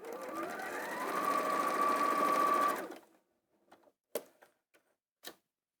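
A sewing machine stitching fabric runs in a loud, steady, fast whirring burst for about three seconds, then stops, followed by a few faint clicks and taps.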